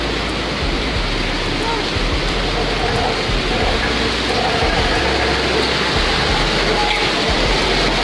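Water rushes and roars steadily near Trilokpur temple in Himachal Pradesh, a loud continuous broadband wash filling the whole stretch without a break.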